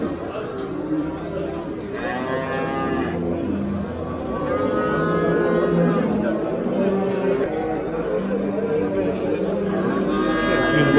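Cattle, including cows with calves, moo repeatedly at an outdoor livestock market. Several long, loud lowing calls rise above a constant crowd murmur, and people talk nearby.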